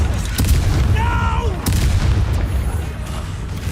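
Spell blasts and explosions in the Hogwarts Legacy video game, a run of loud booming impacts and crackling magic effects with a voice speaking over the combat.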